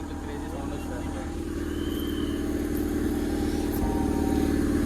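A KCPD GT650 motorcycle fitted with an SS Motocorp exhaust runs close by with a loud, steady, deep engine rumble that holds at a constant pitch with little change in revs.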